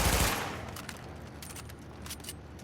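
Rapid automatic fire from an MP5 submachine gun cycling at about 800 rounds per minute in a shooter video game, a loud opening blast followed by a steady stream of sharp repeated shots.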